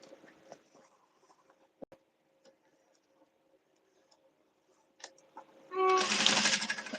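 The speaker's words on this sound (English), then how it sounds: "Y'all hear my sewing machine humming." Home sewing machine with a foot pedal, sporadic soft ticks and clicks followed near the end by a sudden loud, steady mechanical whir as it runs.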